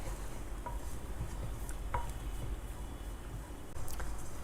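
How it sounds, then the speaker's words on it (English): Garlic frying on a slow flame gives a soft, faint sizzle, with a few light clinks of a utensil against the pan. "My garlic are almost done on slow flame."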